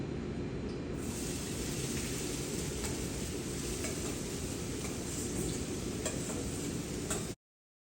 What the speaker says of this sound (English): This is going to saute up a little bit until we get the onions just about translucent.